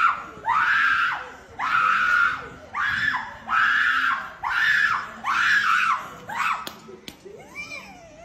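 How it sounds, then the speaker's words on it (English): A woman in a New Orleans street scene lets out a series of about six long, high screams in a steady rhythm, loud and close, then breaks off into shorter strained cries. "Screams, causes a scene."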